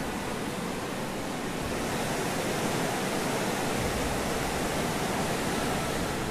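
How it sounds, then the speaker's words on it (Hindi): The Baspa river roars in monsoon flood beneath a bridge in Himachal Pradesh's Sangla Valley, a loud, unbroken wall of rushing white water with no pauses. "इस ब्रिज पर खड़े होते ही आप बासपा रिवर की असली पावर को फील कर"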